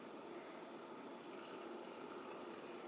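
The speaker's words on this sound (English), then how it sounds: "Pour it in the jars." Liquid poured into jars during kitchen meal prep, a steady hissing, splashing flow running continuously for a few seconds, faint and even, with no talking.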